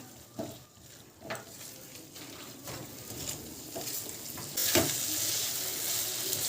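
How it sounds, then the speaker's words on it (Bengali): Pre-fried potatoes stir-fry with spices in a pan, giving a low sizzle broken by several spatula scrapes; the frying hiss swells louder and brighter in the final seconds. "দিয়ে আর একটুখানি মশলার সঙ্গে আলুটাকে ভালো করে একটু কষিয়ে নেব।"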